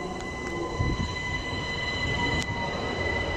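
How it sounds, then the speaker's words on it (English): A Capital Star train rolls steadily through Sydenham station, a loud sustained rumble of wheels on rail with faint metallic squeals and brief clicks over the top, no voice. "And we have another train coming in."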